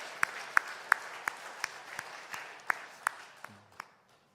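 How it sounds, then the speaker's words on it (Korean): A Korean church congregation at a Sunday morning service offers applause to God: a string of crisp, evenly spaced claps ringing out in a sparse rhythm, then thinning and fading away. "우리 하나님께 영광의 박수 올려드리겠습니다."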